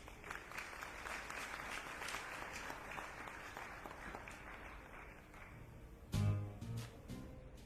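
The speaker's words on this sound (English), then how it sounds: "Can you please give him another round of applause?" An audience at a teacher-of-the-year award ceremony applauds in a sustained, even wash of clapping that ends with a brief louder burst of noise.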